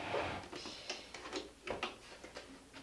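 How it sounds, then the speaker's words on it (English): A sewing machine needle hand-cranked down while binding a quilt gives a series of faint, close mechanical ticks and clicks in a quiet room, with no voice. "you can just hand crank the needle down, which I'm going to do right now"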